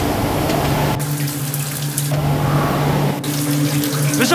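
A shower runs steadily on a powerful electric heater drawing about 333 watts, a continuous broadband hiss of falling water with a low hum, close and constant, brief dips in the spray, no talking.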